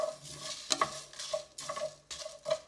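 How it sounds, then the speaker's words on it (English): Whole spices toast in a dry pan for a pepper chicken curry, a faint crackle and sizzle broken by soft scraping and clinks of a spoon stirring against the pan. "So if you're really quiet, you can hear the spices kind of"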